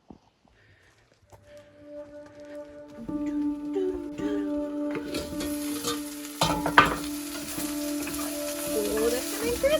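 Food sizzles and crackles in a pan at a campsite on Vancouver Island, starting near-silent then building to a steady close fry with stirring clatters and a sharp scrape partway through.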